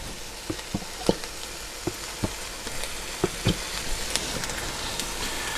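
Two pounds of browned ground beef with ketchup sizzle in a frying pan, a steady close frying hiss broken by scattered sharp pops and crackles and occasional stirring clicks.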